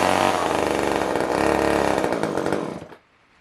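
A Poulan 1800 Wood Shark chainsaw with a fuel-starved no-start fault runs loud and close in a steady two-stroke buzz for nearly three seconds, then cuts out abruptly and dies into near silence.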